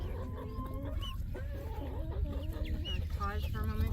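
Young silkie chickens clucking and peeping close by outdoors, a steady run of short chirps and clucks over a low rumbling background.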